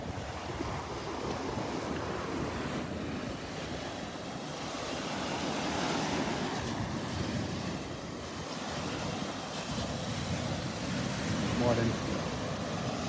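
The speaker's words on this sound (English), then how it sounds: "With that breeze, it's actually a little bit on the cool side with that breeze blowing here." Steady breeze blowing across a warm beach at Delnor-Wiggins in the morning, with continuous surf and waves washing in underneath, a broad unbroken wash of wind and water without voices.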